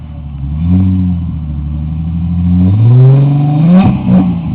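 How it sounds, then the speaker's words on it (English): An '05–'06 Ford Mustang 4.0L V6 with Flowmaster dual exhaust, 2 1/4-inch duals and an X-pipe revs up close and loud, a deep burbling idle rising in pitch through two climbing revs before falling back. "'06 Mustang V6, 2 1/4 duals, imco mufflers."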